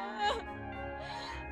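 A cartoon girl whimpers and wails in a tearful, wavering cry, close and moderately loud, with soft musical background beneath it.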